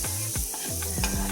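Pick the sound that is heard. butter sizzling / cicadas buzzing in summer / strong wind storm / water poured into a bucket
butter sizzling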